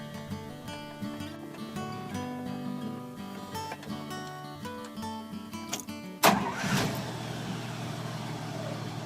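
A vintage truck's engine cranks and catches after the ignition is switched on, a sudden loud burst late in the clip settling into a running rumble, following a stretch of background music.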